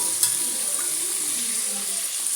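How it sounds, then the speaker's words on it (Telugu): Broad beans fry in a pan with a close, steady, bright sizzle that holds evenly throughout, marked by one brief clink at the start. "చిక్కుడుకాయలు అయితే వేపాను ఫ్రెండ్స్. ఇలా మంచిగా వేయించండి. ఇగో ఇంకా వేగుతూనే ఉన్నాయి"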